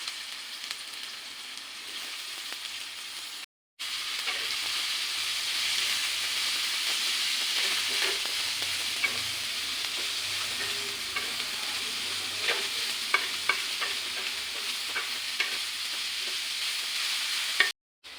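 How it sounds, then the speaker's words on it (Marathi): Onion sizzling and frying in a pan with red chili powder and homemade masala for a spicy chutney, a steady close hiss with occasional stirring scrapes, briefly cut out once near the start. "इथे पहा आपला कांदा चांगला परतला आहे"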